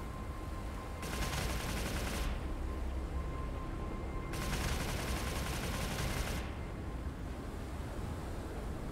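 Two long bursts of rapid automatic fire from a gun in a multiplayer survival shooter game, each lasting a second or two and heard at moderate loudness over a steady windy background.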